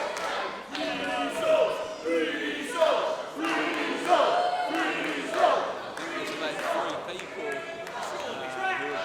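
A wrestling crowd at an indoor independent show cheers and chants in loud, rolling swells, with a commentator's voice running over the din throughout.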